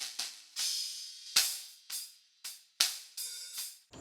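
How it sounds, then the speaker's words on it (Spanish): Snare drum captured by the bottom microphone, compressed and equalized, delivers sharp, bright, rattly hits at an uneven groove pattern, each decaying quickly; quiet overall with no other sounds. "Entonces ahora con la compresión y ecualización suena así."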